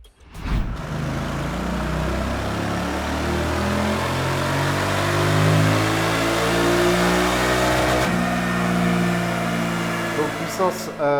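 Royal Enfield Bear 650 motorcycle engine running up on a dynamometer, revs climbing steadily in a long loud pull, a brief dip near the end before rising again.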